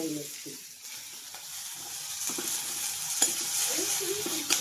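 Onion and garlic sizzle and crackle in a hot pan in a home kitchen, with light stirring scrapes and a few soft clinks over the steady frying hiss.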